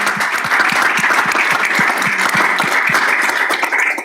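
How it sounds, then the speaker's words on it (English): A room at a school board of education meeting applauds district staff, a sustained, even burst of many hands clapping, fairly loud and close, running unbroken before tapering at the very end. "Give them another round of applause."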